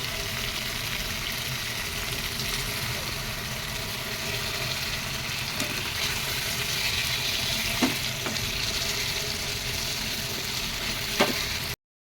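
Masala for a thin katla fish curry with potatoes and elephant foot yam being sautéed in a pan: a steady close sizzle and hiss with a couple of sharp scrape clicks from the stirring, and no voices.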